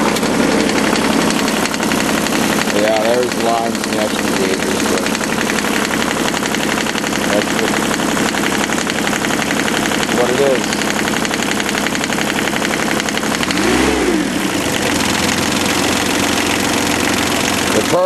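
A Perkins diesel engine on a garden tractor runs steadily nearby with a knocking, clattering idle, a few brief pitch sweeps rising and falling over the drone.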